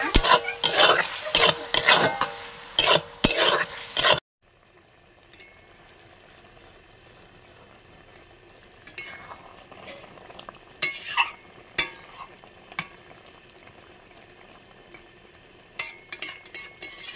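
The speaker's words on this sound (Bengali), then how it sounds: "আলতো হাতে একটু নেড়ে চেড়ে দিলাম।" Taro greens are stirred gently in a pan, with close, rhythmic scraping and clinking of a utensil against metal for the first few seconds, then a soft sizzle with scattered light knocks and taps.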